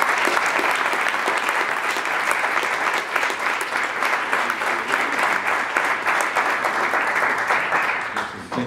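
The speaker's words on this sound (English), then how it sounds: "please a big round of applause for the three of them." Audience at a product meetup applauds steadily, a dense, close wash of clapping that holds throughout without talk over it.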